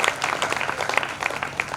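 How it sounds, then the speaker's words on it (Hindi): An audience claps in a brisk, uneven patter of many hands at moderate distance, sustained without a break for a couple of seconds. "ऐसे ताली बजाने से क्या होता है"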